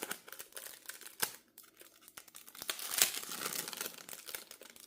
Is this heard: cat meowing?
no